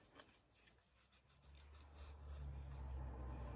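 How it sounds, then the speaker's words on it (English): Hands rubbing face oil into the skin, a soft close rasping friction that builds and grows steadier and louder toward the end, with no talking. "I'm just going to take 1 vial of this into my hand and just rub it in to the skin"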